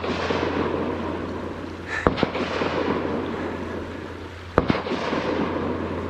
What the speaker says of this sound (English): We got someone shooting off just rounds.